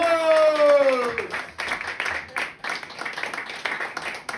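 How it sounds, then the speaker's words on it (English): An audience at a comedy club claps and cheers for an act, a burst of applause and whoops rising after a host's voice fades out. "So start clapping, please. Everyone start cheering."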